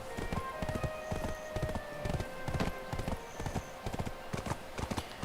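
Horse hooves pound in a fast, even galloping rhythm in Black Desert Online, loud and close, with repeated clip-clop strikes and a faint game tone in the background, no talk.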